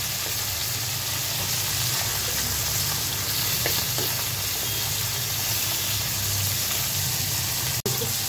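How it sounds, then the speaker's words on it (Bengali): Baila (bele) river fish frying over high heat in an oiled frying pan, a continuous close sizzle and crackle holding steady throughout, with a brief sharp click near the end and no talking. "তাড়াতাড়ি করে এটা ভেজে নেওয়ার জন্য একদম আগুনটা বাড়ন্ত করে দিয়েছি, যাতে মাছের বাইরের অংশটা খুব তাড়াতাড়ি ভাজা হয়ে যায়।"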